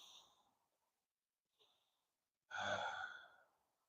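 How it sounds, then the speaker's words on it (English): One person breathes softly during a morning qigong session, with two faint airy breaths and then a long, deep, fuller breath rising close to the mic in a quiet setting. "Deep breath in."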